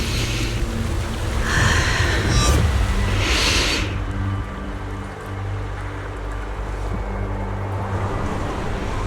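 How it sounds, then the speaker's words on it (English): Wind blowing in the Zenless Zone Zero video game: a steady broadband whoosh that is stronger and gustier for the first few seconds, then settles to a lower, constant rush with no talking. "The wind. It's shifting."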